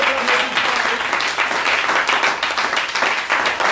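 A church congregation applauding and cheering for Jesus, dense sustained clapping with crowd voices mixed in, loud and continuous throughout.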